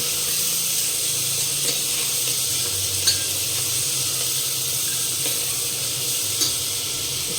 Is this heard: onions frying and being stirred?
yes